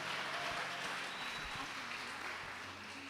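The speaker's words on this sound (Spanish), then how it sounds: "Un aplauso al Señor." Congregation applause at a Friday evening church service, a steady dense wash of clapping held at a faint level for the full stretch without a break.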